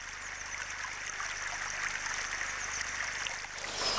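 A small Bavarian river in spring rushes along in a steady, full flow, with a constant close gurgling wash and no voices.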